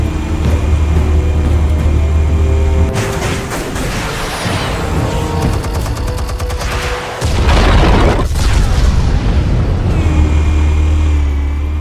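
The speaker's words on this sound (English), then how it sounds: "Explosives armed. Fire when ready." Explosives detonate in the Batman Telltale game with loud, deep booms and rumbling blasts. The roar is heavy and sustained, with several surges and a continuous low drone running underneath.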